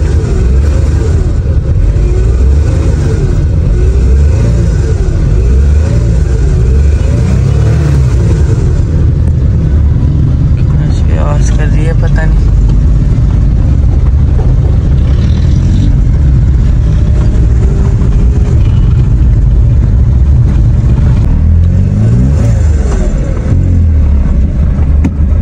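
A broken-down auto rickshaw with aftermarket power steering runs loudly up close, its engine droning continuously and swelling in uneven revs throughout.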